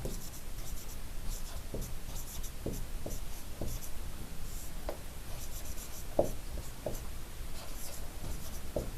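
A pen scratches across paper during a maths lesson, soft irregular strokes and short scrapes repeating steadily at low volume, with no voice over them.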